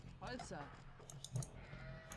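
A sheep bleats twice in quick succession during an Age of Empires 2 HD match, a short wavering call heard clearly over low game ambience.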